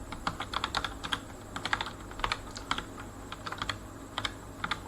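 Fast, irregular clatter of keys on a computer keyboard as someone types commands in a bash terminal, close and clear with bursts of rapid keystrokes and short pauses, no talking.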